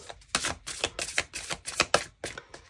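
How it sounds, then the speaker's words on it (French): Rider-Waite tarot cards being drawn and laid down, a quick series of crisp, close papery snaps and taps in an uneven rhythm, about ten distinct clicks with short pauses between them. "on va prendre 3 cartes"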